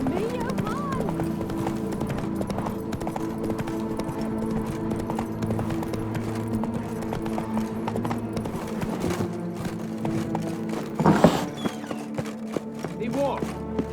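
Hoofbeats of Roach, a horse in The Witcher 3 game, clip-clop steadily at a gallop throughout, close and clear, with a brief louder burst near the end and speech around them.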